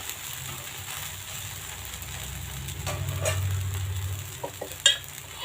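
Tomato dosa frying in a little oil on a hot pan: a steady, soft sizzle runs throughout, growing a bit fuller midway, with a few light clicks of a utensil near the end.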